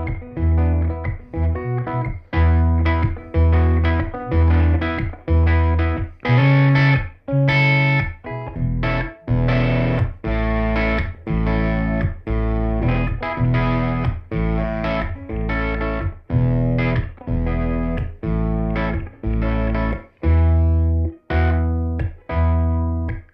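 Electric guitar played through a BOSS OC5 octave pedal in poly octave down mode with distortion, sounding thick, low and fuzzy as chords and notes are struck in a steady rhythmic pattern, loud and close.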